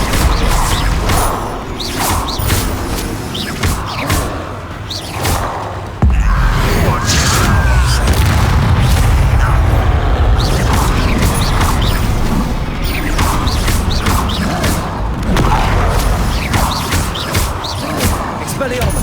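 Confringo blasting-spell explosions in the video game Hogwarts Legacy, repeated booming crashes and whooshing impacts amid continuous combat noise, with a loud, dense stretch midway and a voice speaking throughout.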